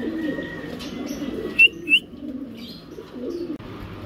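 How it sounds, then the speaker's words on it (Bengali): A pair of Budapest pigeons at a pigeon market coo in low, rolling murmurs close by, with two brief sharp chirps partway through. "রানিং একটা মাদি কবুতর"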